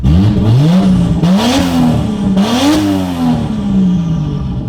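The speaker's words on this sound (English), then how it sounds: "Just revving this thing, 5 pounds of boost on the stock turbo." A Lexus IS300 with a 1JZ engine on its stock turbo revs up twice, making 5 pounds of boost, each time rising in pitch then falling back, loud and close with a whooshing turbo edge.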